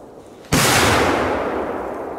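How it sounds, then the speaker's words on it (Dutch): A single sharp bang from a Polish firecracker bursts out loud and close, followed by a long crackling, hissing decay that slowly fades. "het zijn wel gewoon leuke knallers"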